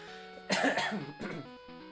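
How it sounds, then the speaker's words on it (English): A man clears his throat and coughs a few times in quick succession, close and fairly loud, with a steady electronic hum underneath. "Sometimes you just get something in your throat and you just gotta cough it out."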